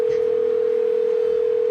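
A steady, unbroken telephone dial tone rings out on a borrowed mobile phone while a call is being placed, one continuous loud, close hum with a faint click at the start.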